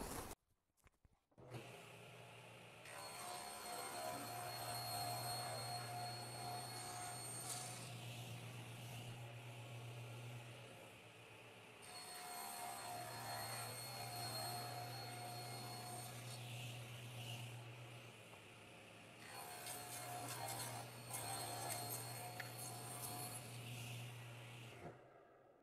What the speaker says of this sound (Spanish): Yo voy a utilizar la sierra radial para cortar las piezas del arbolito